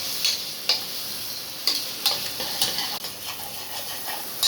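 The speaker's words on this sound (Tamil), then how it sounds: "நல்லா வதக்கணும். கொஞ்சம் வதங்கட்டும்." Ingredients for mushroom biryani sautéing in a pan, a steady sizzle with spatula scrapes and stirring clicks every half second or so, close and alone without talk.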